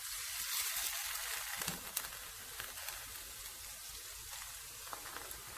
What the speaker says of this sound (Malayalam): എന്നിട്ട് ഇങ്ങോട്ട് എടുത്തു വെച്ചിരുന്ന നമ്മുടെ 2 മുട്ട ഒഴിച്ചു കൊടുക്കാം